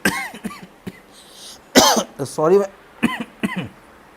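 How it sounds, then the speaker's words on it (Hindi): A person with a sore, irritated throat coughs several times in short bursts, with bits of speech between the coughs, close to the microphone. "थोड़ा सा गले में थोड़ी दिक्कत है, बार बार खांसी उठ रही है"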